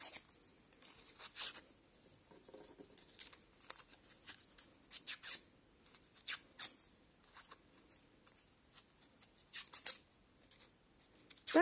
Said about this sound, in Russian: Образовавшиеся полосочки закрутим с помощью ножниц с одной стороны